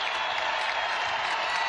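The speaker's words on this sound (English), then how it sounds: "This crowd is getting loud" A basketball arena crowd at an Arizona versus Utah women's game cheers and applauds loudly in a steady, dense roar that stays unbroken for the whole moment.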